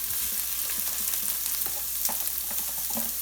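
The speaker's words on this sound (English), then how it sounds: "Saute the onions and peppers." Onions, peppers and celery sizzle steadily in a hot pan, a dense, continuous frying hiss with small pops and crackles and occasional stirring scrapes, close and loud throughout.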